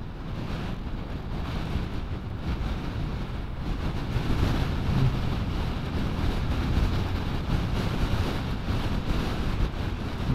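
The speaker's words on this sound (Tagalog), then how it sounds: "Oh, lakas na naman ng hangin." Strong gusting wind buffets the microphone in a continuous roar during a motorcycle ride in northern Luzon, Philippines, swelling louder midway, with no voices.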